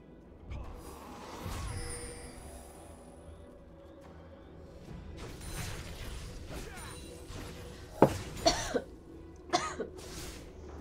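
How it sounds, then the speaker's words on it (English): Several coughs and throat clearings, loud and close, with a sharp cluster of harsh coughs near the end over a low background hum. "Sorry I'm coughing so much, everybody."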